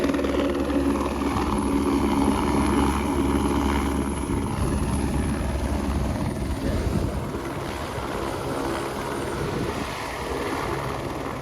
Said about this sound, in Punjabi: ਜੇ ਕਿਸੇ ਨੇ ਹੈਲੀਕਾਪਟਰ ਦਾ ਨਜ਼ਾਰਾ ਦੇਖਣਾ ਤਾਂ 5-6 ਮਿੰਟਾਂ ਦੀ ਨਜ਼ਾਰਾ ਹੁੰਦਾ